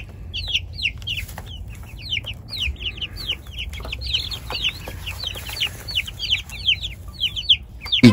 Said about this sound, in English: So we are in with the Bresse chickens.